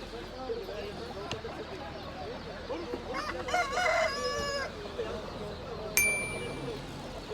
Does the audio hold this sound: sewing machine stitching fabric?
no